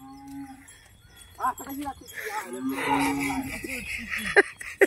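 A Khillar cow gives a long, drawn-out moo, close and fairly loud, with people talking nearby before and around it.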